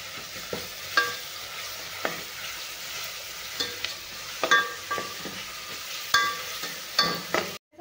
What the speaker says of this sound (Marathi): अद्रक लसूण पण आपल्याला छान भाजून घ्यायचं आहे